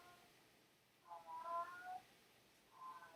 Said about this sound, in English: there's a cat outside that just is making crazy noises